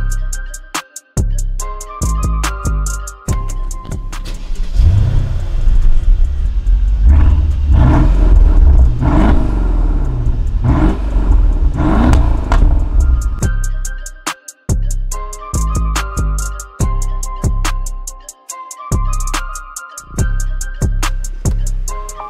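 A six-cylinder car engine in a drag race revs and roars as it accelerates hard, the loud rumble rising and holding before dropping back to idle pops and crackles.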